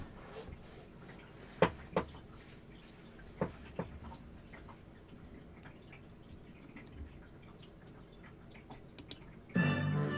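In The Great Ace Attorney: Adventures, soft clicking keystrokes tick out in short, scattered bursts, sounding like dialogue text being typed, over a quiet background.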